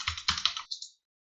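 A short burst of about nine crisp keystrokes on a computer keyboard while a simple password is entered, close and clear, ending in silence.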